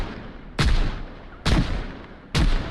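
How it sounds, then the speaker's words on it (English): Three gunshots fired into the air in Project Zomboid, loud sharp cracks spaced nearly a second apart, each with a short echoing tail over a low background hum. "I began shooting into the air in hopes that the zombies would begin investigating the noise"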